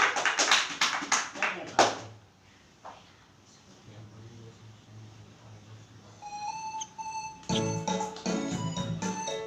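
A burst of hand clapping from a group in the opening seconds, fading out, followed by quieter room sounds and then a voice singing.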